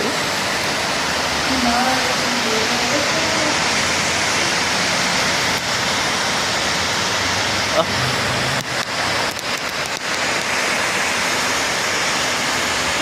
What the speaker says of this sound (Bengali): কি বৃষ্টিটাই হইতাছে।